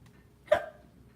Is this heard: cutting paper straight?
no